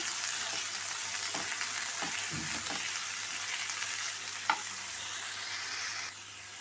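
Grated coconut for palya frying in a pan with curry leaves, a loud continuous close sizzle with a few stirring scrapes and clicks, no voices, easing off slightly near the end.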